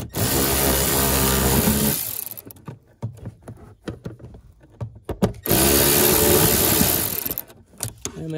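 Power tool spinning a screw out of a rusty mount on a Chrysler Town & Country / Dodge Grand Caravan, with two long loud whirring runs close by and a stretch of clanks and rattles between them.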